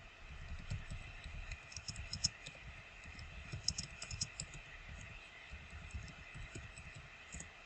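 Someone types a question on a computer keyboard in a quiet room, with soft, irregular key clicks in bursts across the whole stretch and a few sharper taps among them.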